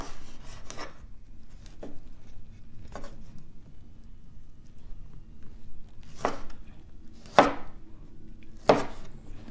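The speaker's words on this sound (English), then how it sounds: "I'll just cut into small bite size." A knife cuts tomatoes into small bite-size pieces on a board for a spicy Cambodian cucumber salad: separate crisp chops, a couple soft and several sharper, spaced irregularly over near silence with no voices.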